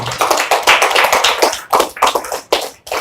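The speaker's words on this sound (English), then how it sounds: "Can we clap for these women?" Audience at a Kenyan women's networking breakfast claps for a panel of women, a close, loud burst of many hands in quick irregular slaps with no talking.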